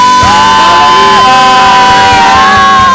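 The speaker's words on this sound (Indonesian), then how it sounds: "Sorak-sorai buat Tuhan" A church congregation at a Sunday worship service cheers and shouts praise together, a loud sustained crowd roar with whoops and raised voices over background music.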